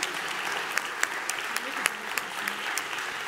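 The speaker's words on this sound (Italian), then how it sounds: "Facciamo un applauso a loro, mentre qua mettiamo le sedie." An audience applauds a group at a science-of-fermentation event while chairs are set up, a steady wash of clapping with a few sharper claps standing out and faint voices underneath.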